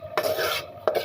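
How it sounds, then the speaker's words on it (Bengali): A spoon scrapes through onion, garlic and spices in a cooking pot as they are stirred together, giving two or three short, close, rasping strokes. "আমি এখন এখানে দিয়ে দিচ্ছি। এটা একসাথে কষে নেব।"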